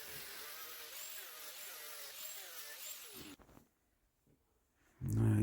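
A 120 grit sanding disc grinds over a chainsaw-carved pumpkin's stalks, a steady whirring rasp for about three seconds, then near quiet with faint scrapes, before a loud burst of handling noise at the end.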